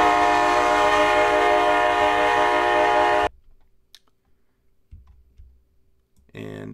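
A custom train horn from the Run 8 V3 train simulator game blares as a loud, steady multi-tone chord for about three seconds, then cuts off abruptly, leaving near silence with a few faint scattered noises.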